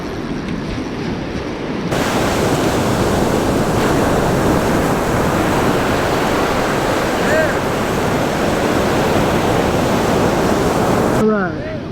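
Surf breaking steadily on a Gulf beach at Fort Morgan, Alabama, a broad continuous wash of waves close by that swells in after a quieter opening and holds loud until near the end.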